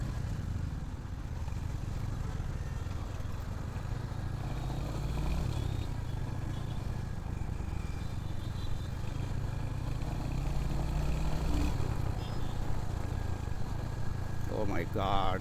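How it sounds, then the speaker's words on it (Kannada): A Royal Enfield Hunter 350 with its 350cc engine runs steadily during a test ride, its low engine drone and road and wind noise continuous and fairly loud throughout, with a brief higher whine near the end. "I am seriously enjoying riding this bike."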